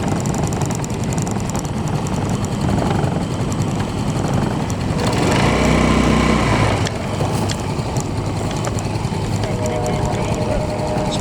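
Firefighting aircraft flying overhead near a wildfire on a windy day, a steady loud engine roar that swells to a peak midway and then eases off, with people talking over it.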